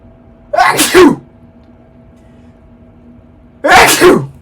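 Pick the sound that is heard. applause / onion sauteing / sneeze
sneeze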